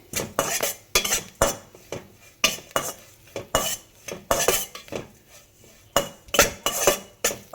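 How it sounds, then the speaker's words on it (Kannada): A spatula scrapes and clinks against a pan while grated coconut is dry-fried for a roasted gram chutney powder, giving a steady, rhythmic run of close metallic strokes with only a faint sizzle beneath. "ಕಾಯಿ ತುರಿನ ಹಾಕಿಬಿಟ್ಟು ಚೆನ್ನಾಗಿ ಇದನ್ನು ಕೂಡ ಫ್ರೈ ಮಾಡ್ಕೊಳ್ಳಿ"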